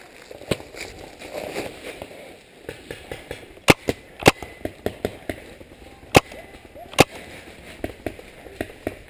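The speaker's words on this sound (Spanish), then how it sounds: "Ahí se oyen los disparos." Paintball markers fire during an outdoor team battle, a scattered series of sharp, snapping shots at varying distance, some loud and close, others faint, amid rustling and low background chatter.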